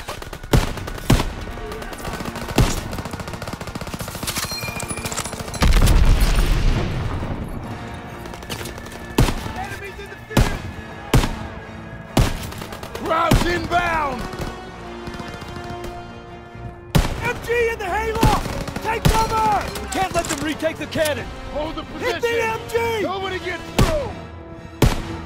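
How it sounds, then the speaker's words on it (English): Machine gun fire and gunshots in Call of Duty: WWII during a D-Day mission, with rapid bursts, single shots and booming impacts throughout, while voices shout over the battle. "That was a machine gun or something up there."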